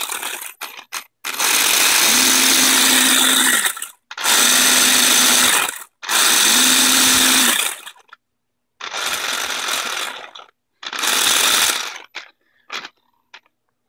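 The electric motor of a 3D-printed robot runs in five separate bursts of a few seconds each, with a steady buzzing hum under a loud whirring rush and short pauses between runs.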